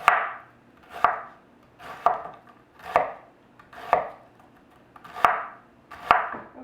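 Knife slicing onions thinly on a cutting board, a steady series of about seven crisp, evenly spaced close chops, each with a brief scraping tail, with no talk.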